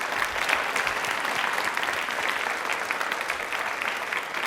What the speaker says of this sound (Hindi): तालियां प्लीज एक बार जोरदार बजा दीजिए।